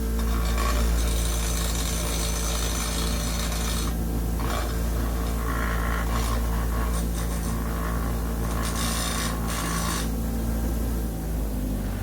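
A grinder working continuously: a loud, steady rasping whir with a low motor drone underneath, its high rasp swelling and dropping as contact changes, close up with no talk.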